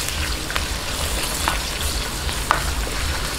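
Chopped onion and chicken breast sauté in a hot pan for pancit molo soup, a steady close sizzle with a few faint stirring clicks, and no talking.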